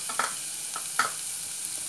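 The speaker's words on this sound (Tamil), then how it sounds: "போட்டு கொஞ்சம் நேரம் நல்லா கிண்டி விட்டுக்கோங்க" Ground onion and coconut masala fries in a pan for onion curry, a faint steady sizzle broken by a few soft scraping stirs of a spoon, quiet and close without speech.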